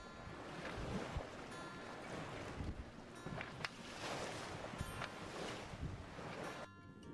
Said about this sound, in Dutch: Ja, dit is een beetje een onrustig zeetje hier.